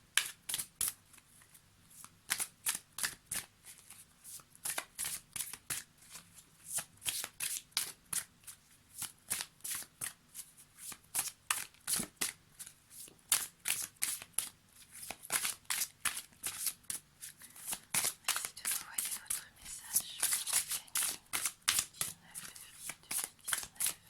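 Tarot cards are shuffled over and over for a card reading, a fast rhythmic riffle of crisp papery flutters repeating close by, with quiet speech now and then.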